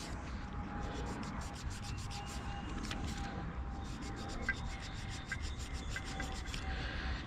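A rag is rubbed hard over a part of a 3.6L Pentastar engine, making a steady, close scrubbing and rasping sound in repeated strokes throughout.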